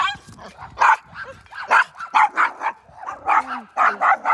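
Several dogs on a walk bark sharply in quick bursts, close by, with some yips mixed in and a person's voice under the barking.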